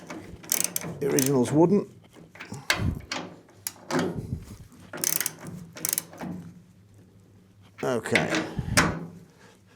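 A ratchet clicks in several short bursts while M12 bolts are snugged up on an MEV Exocet kit car build, with someone talking between the bursts.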